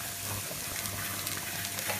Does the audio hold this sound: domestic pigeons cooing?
no